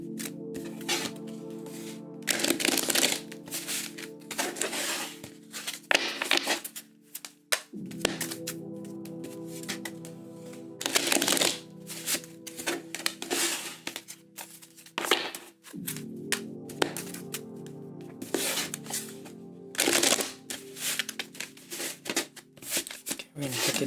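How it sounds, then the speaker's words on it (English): Tarot cards riffled and shuffled in three distinct rounds, each a dense papery flutter building and settling, fairly close and moderately loud, with soft taps and card slaps between. "I'm going to go ahead and do 3 shuffles"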